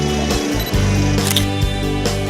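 Canon EOS 550D DSLR shutter clicking during shutter-priority shooting at 1/125, with a few short mechanical clicks over a steady, fairly loud background hum.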